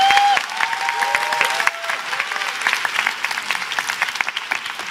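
An audience at a motivational talk breaks into steady, fairly loud applause that holds throughout, with a faint crowd murmur underneath.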